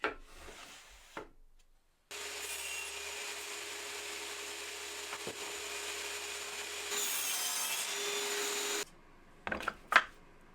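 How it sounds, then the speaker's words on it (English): A table saw fitted with a mitre gauge cuts wooden slats for an apple crate bookcase, with a steady whine of about seven seconds after a quiet start, followed by brief knocks and clatter. "I'm going to do that with the mitre gauge on the table saw."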